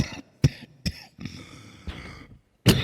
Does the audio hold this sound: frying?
no